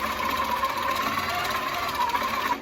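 Sewing machine running steadily while quilting a table runner, a continuous fast mechanical whir and buzz close up, with no pauses and no talking.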